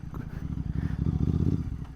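A Royal Enfield GT 650 motorcycle is ridden at night, its engine a close, throbbing low rumble with rhythmic pulsing that grows slightly stronger, accompanied by faint rattling.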